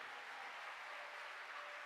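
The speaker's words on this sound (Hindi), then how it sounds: "एक बार भक्तों के लिए तालियां बजाइए" Audience at a Hindu religious discourse applauding, a steady, even wash of clapping from many hands that holds through the whole stretch, fairly distant and without voices over it.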